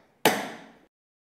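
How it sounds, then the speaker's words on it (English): A nail punch strikes once to sink a panel pin head below the surface of the wood, one sharp close knock with a short fading ring. "I'm going to use what we call a nail punch to drive the head of the panel pin a bit lower than the surface of the wood"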